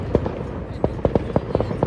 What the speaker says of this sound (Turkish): Bu arada burada da bir şeyler patlıyor, havai fişekler falan.